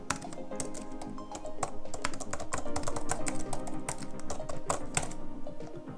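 Rapid, continuous typing on a white Apple Magic Keyboard with scissor-mechanism keys, dense clusters of crisp, close keystrokes with occasional louder taps, no voices.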